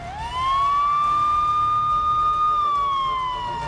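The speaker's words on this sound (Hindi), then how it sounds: "क्या हूटर और सायरन का शौकिया इस्तेमाल बंद हो गया है?" A vehicle siren wails steadily close by, rising at the start and holding a long sustained tone before easing down slightly, loud and alone with no talk over it.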